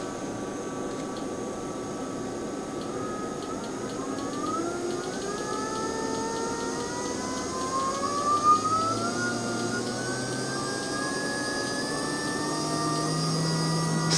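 A 500W brushless motor on a 12V–36V speed controller whines steadily, its tones sliding upward as the speed rises, over a constant background hum with no talking.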